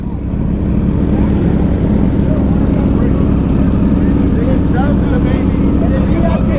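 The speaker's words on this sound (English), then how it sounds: "so here go all the bikes for the JJ3 ride out" A group of motorcycles rides out together at a memorial ride, with a continuous dense engine rumble close by and a person talking over it.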